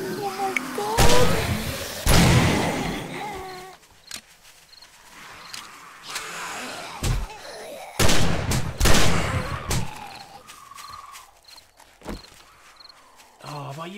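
Video game gunfire in 7 Days to Die during a zombie horde night, with scattered loud shots and bursts in irregular clusters, mixed with footsteps and thuds while players talk excitedly.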